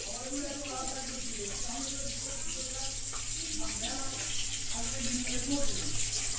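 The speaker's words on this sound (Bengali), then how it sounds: "চলো কাচিয়ে কুচিয়ে একটু এটা বাটিটা কাচিয়ে কুচিয়ে দিয়ে দিই" Tap water runs steadily into a sink while a bowl is rinsed in a home kitchen, a continuous close splashing wash with faint background voices and kitchen noise underneath.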